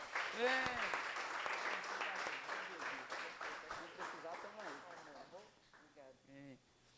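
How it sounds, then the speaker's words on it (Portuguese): A church congregation applauds during a worship service, with scattered clapping running beneath shouting and voices that cheer and call out over it, fairly distant and uneven. "Você pode aplaudir ao Senhor?"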